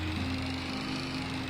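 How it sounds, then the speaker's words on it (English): A small green tricycle in a video game has an engine that buzzes steadily like a lawnmower, a constant mechanical hum held for about a second and a half with no talking. "This one sounds like a lawnmower."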